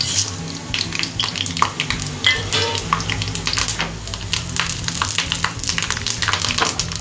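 Mustard seeds, urad dal and dried red chilies hit hot oil as a tempering for Chettinad coconut chutney, making a dense, continuous crackle of quick pops and sizzle up close.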